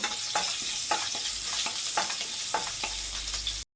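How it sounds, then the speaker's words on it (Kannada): Green chillies and ginger fry in hot oil for hotel-style noodles, a dense continuous sizzle with rhythmic spatula scrapes and taps, close up, ending in a brief cut to silence. "ಈಗ ಎಣ್ಣೆ ಕಾಯಕ್ಕೆ ಇಟ್ಟಿದ್ದೀನಿ. ಇವಾಗ ನಾನು ಇದಕ್ಕೆ ಹಸಿಮೆಣಸಿನ್ಕಾಯಿ ಹಾಕೋತಾ ಇದ್ದೀನಿ. ಆಮೇಲೆ ಶುಂಠಿ ಹಾಕೋತಾ ಇದ್ದೀನಿ. ಇದೊಂದು ಸ್ವಲ್ಪ ಫ್ರೈ ಆಗಬೇಕು."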